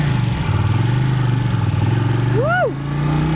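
A police squad motorcycle on a training course, its engine droning steadily and loudly up close, with a brief rising and falling whine near the end.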